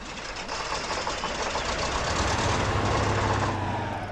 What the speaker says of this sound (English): Start the engine on this thing.